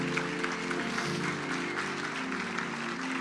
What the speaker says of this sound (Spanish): Vamos a darle un aplauso a Dios por ellos.